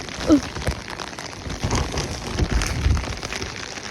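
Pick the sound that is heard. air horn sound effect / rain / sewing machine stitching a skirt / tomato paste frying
rain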